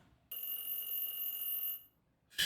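A telephone rings in a visual novel game: a bright, steady electronic ring lasts about a second and a half, then a second ring starts after a short pause, loud and clear against near silence.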